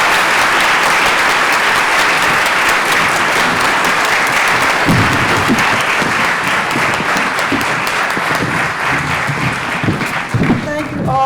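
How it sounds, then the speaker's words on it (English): An audience claps for the actors at a gift announcement event, dense sustained applause filling the room, loud and close, with a speaking voice coming in over the clapping toward the end. "Let's have a round of applause for the"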